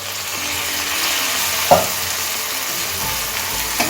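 Mourola fish curry (chochchori) sizzling steadily in a pan once the lid comes off, a loud close crackle with a brief knock partway through.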